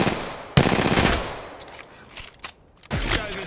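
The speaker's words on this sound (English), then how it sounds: "Joe's shooting at me." Gunfire in Apex Legends: two loud bursts of rapid automatic shots, one near the start and another near the end, with scattered single cracks and quieter clatter between them.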